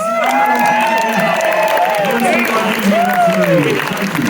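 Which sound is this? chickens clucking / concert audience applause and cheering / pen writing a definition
concert audience applause and cheering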